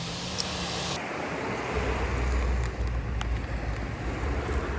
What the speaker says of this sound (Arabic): بنقدر ان احنا نقعد نسترخي ونستمتع بصوت الموج وريحه البحر